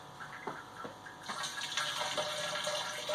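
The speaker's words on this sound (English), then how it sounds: "I'm going to fill it up, top it up with cold water" Cold tap water runs into a Robobrew brewing kettle during a home brew day, a steady splashing fill that starts softly and grows fuller and louder after about a second, with no one talking.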